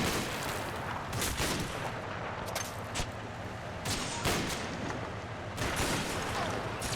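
Dense gunfire from the Combat Mission: Battle for Normandy video game, with loud repeated bursts and booming shots layered into a continuous, intense battle din with no talk.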